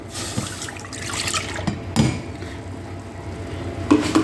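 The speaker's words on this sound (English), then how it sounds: "I'm going to go ahead and add in our milk" Milk poured into a pot for scalding, a close splashing liquid stream with clanks of the pot at intervals, no talk.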